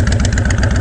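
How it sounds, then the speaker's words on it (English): A Honda Fury motorcycle fitted with Cobra exhaust idles close by, a steady, loud low-end rumble with an even pulsing rhythm and no voices. "It does look like Cobra exhaust. Sounds like Cobra exhaust."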